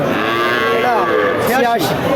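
A Deshal breed dairy cow with a calf moos nearby, a loud drawn-out low call that rises and falls, with faint background murmur.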